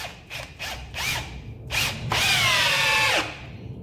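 Ozito 18V 60Nm brushless hammer drill boring with a slightly blunt bit, several short loud whirring bursts, then a longer sustained high-pitched spin-up that cuts off abruptly as the electronic brake stops it.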